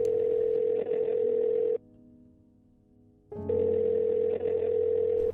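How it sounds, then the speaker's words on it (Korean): A telephone rings in two long, loud electronic bursts separated by a silent pause, with no voices. "양양이 전화를 받았으나 수화기 너머 아무런 소리도 들리지 않았습니다."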